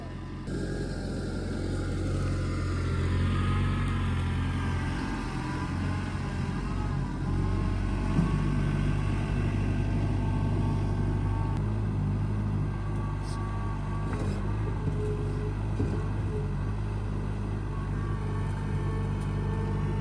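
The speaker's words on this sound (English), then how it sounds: "the tractor to dig out a trench for the asparagus" A tractor engine rumbles steadily nearby while it digs a six-inch trench for asparagus in a cottage garden, a low continuous drone with slight shifts in pitch as it works, and no talk over it.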